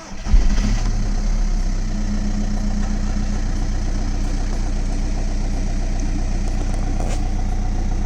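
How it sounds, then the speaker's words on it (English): A 2007 VW Golf 1.9 TDI diesel cranks and catches with a brief surge, then settles into a steady, close, clattering cold idle that continues unchanged. "The engine runs very well"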